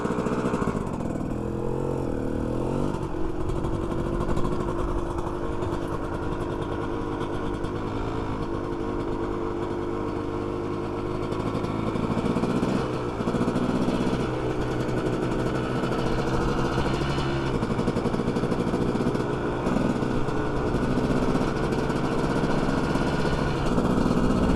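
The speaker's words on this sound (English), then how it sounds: "just ride the bike a little while. Show you guys some more shifting maybe" A dirt bike engine runs steadily and close while being ridden, its pitch shifting as gears change, with no talk over it.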